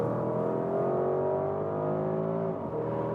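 Porsche Cayenne Turbo GT engine pulling hard on a race circuit, a loud sustained drone whose pitch climbs steadily through the gears, with a brief dip near the end as it shifts.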